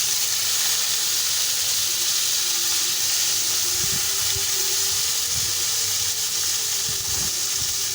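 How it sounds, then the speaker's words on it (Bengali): Diced potatoes frying in oil with whole cumin seeds, then tossed with salt and turmeric: a loud, steady sizzle and hiss runs throughout, with occasional soft stirring knocks. "আলুগুলো লাল লাল করে ভেজে নেব।"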